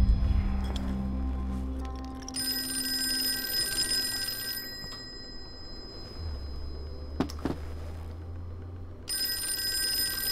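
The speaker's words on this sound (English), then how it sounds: "Phone's still ringing." An old-fashioned telephone rings inside the Call of Cthulhu video game, a bright metallic trill that sounds in two separate bursts over low ambient hum and game noise.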